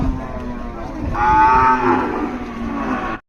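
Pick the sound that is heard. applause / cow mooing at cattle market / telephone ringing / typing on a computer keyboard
cow mooing at cattle market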